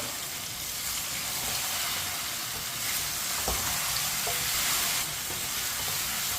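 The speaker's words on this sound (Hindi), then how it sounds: "चिकन को भी 4-5 मिनट के लिए इसी तरह फ्राई कर लेंगे, भून लेंगे।" Chicken pieces frying in a pan for a kaddu chicken dish, with a loud continuous sizzle and hiss and occasional stirring scrapes, heard close up with no talking.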